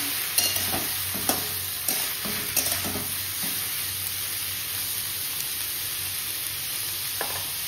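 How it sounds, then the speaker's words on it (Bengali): Onions frying in a pan for onion and poppy seed posto give a steady, close sizzle throughout, with scattered sharp clicks and pops from stirring. "পেঁয়াজটা অলমোস্ট ভাজা হয়েই এসছে"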